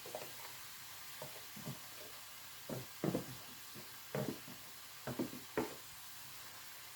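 Carrot and garlic sizzle steadily in a hot pan, with soft scraping knocks of a utensil stirring at irregular intervals, close and fairly quiet, no voices.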